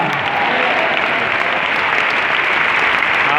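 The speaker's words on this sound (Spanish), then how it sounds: "Un aplauso para el Señor." Loud, dense applause from a congregation at a Spanish-language church service, a sustained even roar of many hands clapping together with no talk over it.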